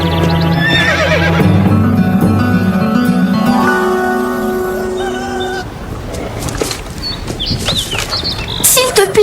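A horse neighs and whinnies loudly in a cartoon scene, with other animal and background sounds mixed in and a later stretch of clattering noise.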